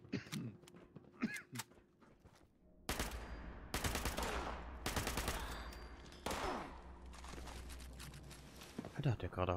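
Rapid bursts of automatic gunfire from the video game Fallout, loud and repeated in dense volleys with brief pauses between them, mixed with quieter game sounds and occasional talk.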